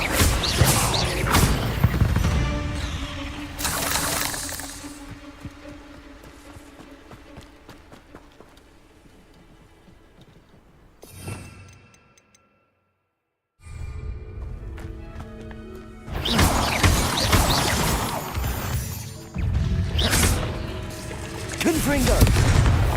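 Confringo blasting spells from Hogwarts Legacy, heard as loud bursts of crashing, rumbling impacts with a quieter stretch and a short silent gap between them, then another sustained noisy barrage.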